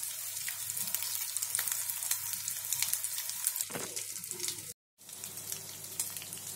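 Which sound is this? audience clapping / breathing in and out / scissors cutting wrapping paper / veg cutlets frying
veg cutlets frying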